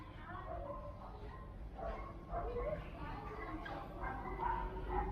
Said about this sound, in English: Oh, I love this bulldog.